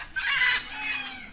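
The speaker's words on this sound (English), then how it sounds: "peacock," A peacock gives a single loud, shrill, piercing call lasting about a second, heard alone and close by.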